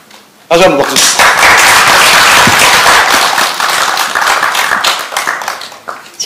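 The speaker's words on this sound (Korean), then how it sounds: "다시 한번 박수." An audience at a Korean national debate forum commemorating the 70th anniversary of the founding of the government applauds loudly after an invitation to clap, a dense burst of clapping that gradually thins, with a voice heard under it.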